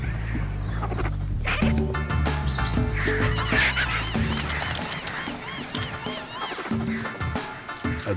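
In the bushveld, vultures squabble over a carcass with harsh, honking squawks and rasping calls that overlap in a loud, continuous tumult close by.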